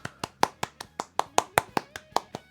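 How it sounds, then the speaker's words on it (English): A livestream host claps alone, a dozen sharp, evenly spaced hand claps at a steady rhythm, close and distinct against a faint background hum. "a round of applause."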